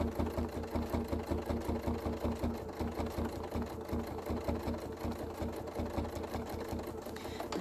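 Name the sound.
sewing machine stitching along the edge of stamped fabric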